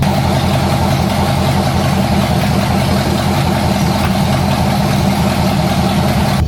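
An old car left abandoned in a scrap yard for years idles loudly and steadily up close, a rough, constant engine rumble with no pauses.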